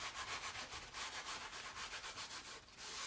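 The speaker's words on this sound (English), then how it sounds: "take a clean paper towel and just kind of wipe it" A paper towel rubs back and forth over a waxed board in quick, regular strokes, a soft scratchy swishing heard up close and alone.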